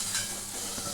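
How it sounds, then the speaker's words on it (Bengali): Palm fruit fritters fry in hot oil, giving a brief, soft, close sizzle with light bubbling and no voices. "এটাকে আর একটুখানি একটু ভাজি। একটু ধৈর্য ধরে একটু ভাজতে হবে"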